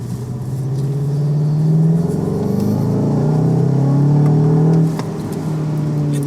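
A Volkswagen Golf GTI engine revs up with a deep, grunty rumble that builds and holds, then drops off sharply near the end.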